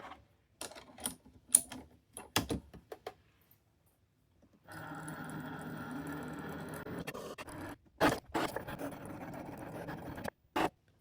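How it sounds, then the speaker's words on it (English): A Cricut machine cuts an envelope in a craft setting: a few light taps and scrapes, a pause, then several seconds of continuous mechanical whirring and scraping, punctuated by brief sharp clacks near the end. "we are going to cut the envelope"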